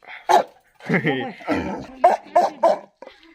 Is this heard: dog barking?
yes